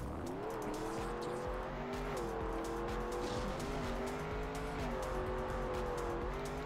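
Trackmania Desert Car races along with a buzzing engine climbing and dropping through repeated shifts, tires squealing under it and brief clicks scattered across, steady and mid-level.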